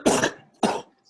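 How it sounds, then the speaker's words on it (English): Two sharp, close coughs come one after the other, the first longer than the second, with nothing else heard. "Ooh, this cough."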